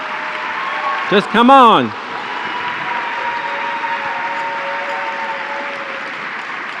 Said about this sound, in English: We're not going to stop applauding till every single one of you is on this stage.